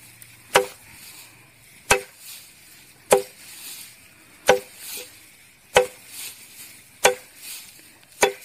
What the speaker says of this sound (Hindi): मैनुअली आप हाथ से भी ऐसे काट सकते हैं।